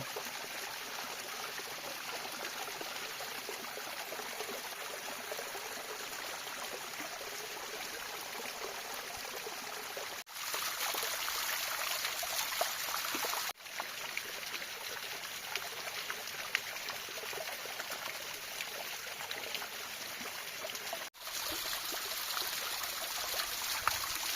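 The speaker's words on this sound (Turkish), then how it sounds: "Şelaleler aktı." Mountain waterfalls in a highland plateau running full after fresh snowfall, a steady, dense rushing roar of flowing water that stays constant throughout, fairly close and with no voices.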